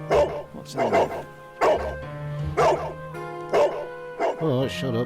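A dog barks repeatedly in bursts inside the Victorian detective game Sherlock Holmes: The Devil's Daughter, with yips and a whimpering whine, loud and close, while someone talks over some of the barks.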